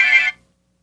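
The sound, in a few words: phone ringtone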